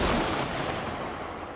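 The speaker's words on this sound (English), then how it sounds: "we got some shots fired" Crackling distant gunfire and artillery rumble roll on without a break across a battlefield in Armored Brigade 2, a Cold War tactical wargame, steady and dense with no voices.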